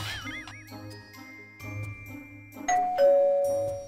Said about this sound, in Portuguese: A campainha? Que bom!